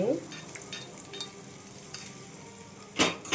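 Tempering spices fry in hot oil for onion chutney, giving a soft continuous sizzle with light stirring and a louder clatter near the end.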